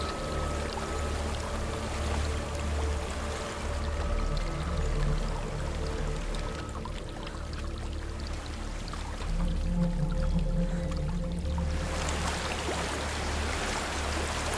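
Steady rushing water from a waterfall in Hellblade: Senua's Sacrifice, a broad continuous roar that persists throughout, with a brighter, louder surge of spray near the end.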